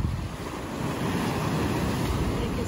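Ocean waves surge against rocks on an artificial beach in Tenerife, a steady, loud roar of surf churning close by with wind buffeting the microphone, no voices.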